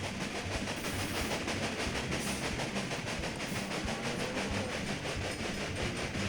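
A train running in the strategy game Railway Empire: a steady, loud rumble of rolling wagons with a faint rhythmic clickety-clack and hiss throughout, no voices.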